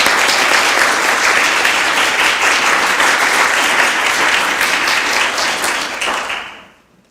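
An audience at an academic thesis presentation applauds, sustained loud clapping from many hands that holds steady for several seconds, then fades out at the end.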